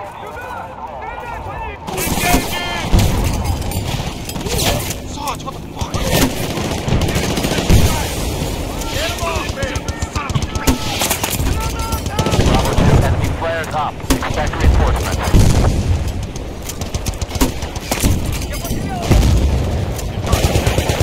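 Loud, sustained gunfire and automatic weapon bursts fill a combat scene in the video game Battlefield Bad Company 2, with booming shots layered over background noise and voices speaking throughout.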